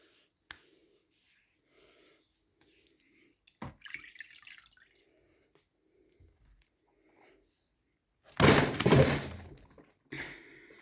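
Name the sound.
cat falling off a table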